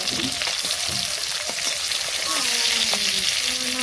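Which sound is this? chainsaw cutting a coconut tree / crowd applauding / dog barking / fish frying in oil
fish frying in oil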